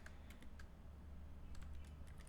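Keys clatter in quick, uneven bursts as someone types personal details into a computer during an IGCSE ICT practical exam, with light clicks spread across the stretch and a steady low hum underneath.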